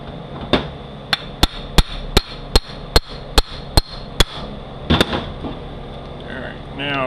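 An axle is tightened down on a Ford front differential with about ten sharp metallic knocks at an even, steady pace. They are close and crisp, followed by a couple of looser clanks and quieter handling noise.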